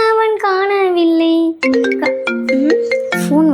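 A phone ringtone plays a bright, loud electronic melody of sustained tones and quick note changes, close and clear, alone without talk.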